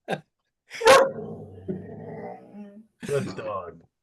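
A dog gives a loud bark-like yelp followed by a drawn-out whining, moaning vocalization, then another burst, heard close up with people talking indoors.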